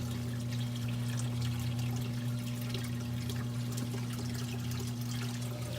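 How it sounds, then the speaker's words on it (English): Water steadily filling the filter sock compartment of a DIY aquarium sump, a continuous close trickle and pour over a low, steady pump hum, with no talking. "Let's let that fill with water a little bit."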